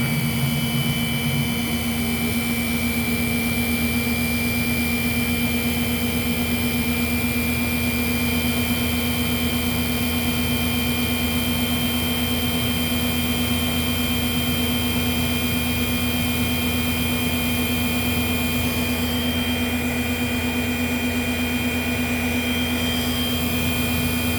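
A Sebo C3 vacuum cleaner runs with its brush roll spinning, a steady loud whine with a strong low hum and high tonal drone, constant and unbroken throughout with no talking.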